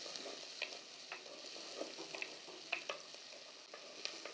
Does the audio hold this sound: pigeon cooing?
no